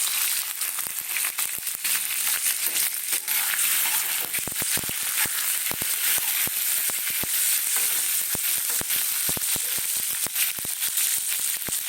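Raw tomato dropped into hot oil with onions and salt, a loud, continuous sizzle dense with sharp crackles and pops, plus scraping stirring noises throughout.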